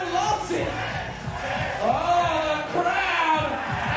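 Crowd at a 3x3 basketball finals in Jeddah roars and yells after a reverse scorpion dunk, loud and sustained with bursts of whoops, while a commentator talks over the noise.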